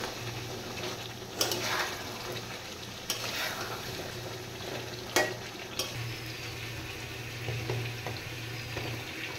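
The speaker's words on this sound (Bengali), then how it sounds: "মেলাক্ষণ ধরে কষাতে হবে।" Spiced partridge curry stirred with a spatula in an oiled kadai: a steady sizzle of frying with sharp, intermittent scrapes and clatters of the spatula against the pan, close and fairly loud.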